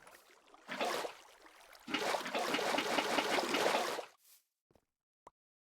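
Flowing water in Minecraft, a short burst then a longer steady trickling rush lasting a couple of seconds before cutting off, followed by a few faint clicks.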